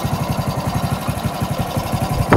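A motorcycle engine idles steadily with an even, throbbing pulse while its idle is set at the carburettor adjustment screw, close and fairly loud, ending in a brief sharp noise.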